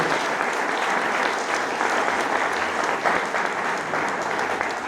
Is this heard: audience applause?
yes